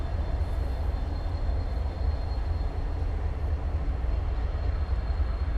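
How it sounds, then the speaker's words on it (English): A train rolls steadily through a Norfolk Southern rail yard, producing a continuous low rumble and wheel noise at moderate distance with no breaks or voices. "Trains sneaking in there on us so quietly."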